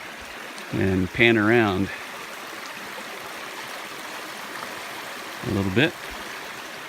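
Stream water runs steadily around a stopped Kubota utility vehicle partway across a shallow creek, a continuous broadband rush heard close by, with brief talk near the start and again near the end.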